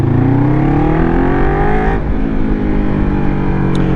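A Kawasaki Ninja 400 motorcycle fitted with a Scorpion exhaust and baffle revs up loudly and close, the pitch climbing and then dropping back to a settling idle, with a slightly metallic edge.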